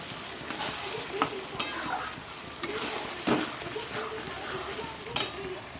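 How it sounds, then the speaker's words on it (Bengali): Chilli paneer being stirred in a frying pan with a little turmeric, a steady sizzle broken by sharp scrapes and clinks of the spatula against the pan at irregular intervals, close up. "ভালো করে একটু নাড়াচাড়া দিতে হবে দেখো"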